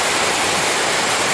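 Heavy rain pours down in a steady, loud downpour over a rural community, a dense continuous hiss with no breaks and no voices.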